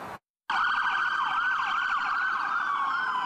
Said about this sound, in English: Sirens blared as cars rushed to I-84 East in Southington